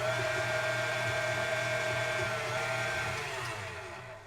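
An electric mixer whirs steadily and close, creaming brown butter with brown sugar for gingerbread cookies, its motor drone holding level before easing slightly at the end.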